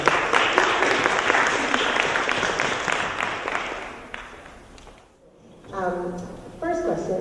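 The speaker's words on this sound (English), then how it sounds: "please join me in a round of applause for our speakers" Audience applause for speakers at a tax-credit seminar, a dense, steady round of clapping that fades out over several seconds, followed by brief faint tones and a voice.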